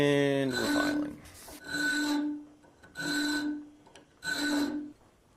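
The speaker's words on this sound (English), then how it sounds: "And we're filing." Four distinct rasping strokes of a file working a steel knife blank, each about a second long with short pauses between, close and fairly loud with no one talking.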